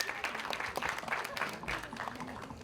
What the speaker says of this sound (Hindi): एक बार जोरदार ताली चाहिए अनुराग के लिए